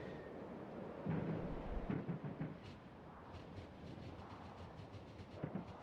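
A train rolls past in the Factorio video game, a low rumbling mass of noise with heavier thumps early on, then a steady rattling drone that holds at moderate level throughout.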